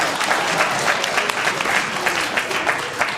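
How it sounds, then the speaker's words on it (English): Dense, steady applause from a keynote audience in Johannesburg, South Africa, a broad wash of many hands clapping at once that holds at an even level for the whole few seconds. "give her a round of applause, because she's going to be the millionaire"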